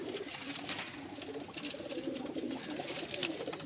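A pet pigeon coos softly in a loft, low repeated cooing phrases over a faint background with no talk.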